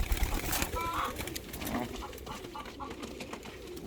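Pigeons coo softly among other bird noises in a loft where new birds are being shown, a few low burbling calls near the start over a murmur of background sound.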